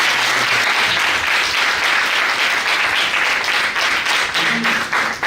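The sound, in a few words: audience applause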